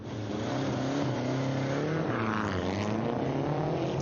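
A Lancia Delta Group B rally car's engine roars and revs hard as it accelerates, the steady loud drone shifting in pitch while the car pulls away.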